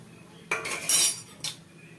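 Semolina being stirred in a pan for rava kesari over a medium flame, with a few short scraping and clinking strokes of a spoon against the metal, one louder burst in the middle and a quieter stroke after it.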